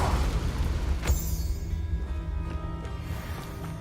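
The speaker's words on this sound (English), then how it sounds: "Confringo." A Confringo explosive spell cast in the Hogwarts Legacy game, heard as a loud booming blast at the start with a second burst about a second later, trailing into a rumbling, ringing decay.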